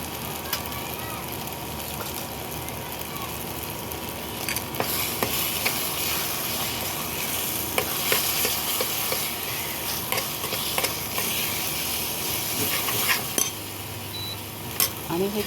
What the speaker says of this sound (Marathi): आणि हे छान मंद ह्याच्यावर तेल सुटेपर्यंत छान परतवून घ्यायचं.